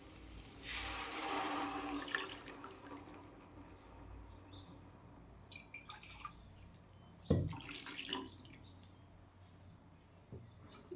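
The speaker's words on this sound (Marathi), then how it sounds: "थोडं पाणी घालते." Water poured into a potato curry gravy, a brief splashing pour early on followed by quieter bubbling and a couple of louder clatters of a spoon or vessel, close and fairly faint.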